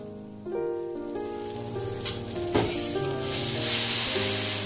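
Sirloin steak sizzles on a teppanyaki griddle at the Capitol Hotel Tokyu, with a steady crackling hiss, a few sharp clanks of metal utensils, and the frying growing slightly louder toward the end.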